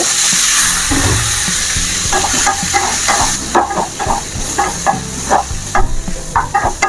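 Potato pieces frying in hot oil for an egg and potato curry, a loud steady sizzle and hiss close by, broken later by repeated scraping and stirring knocks of a spatula in the pan.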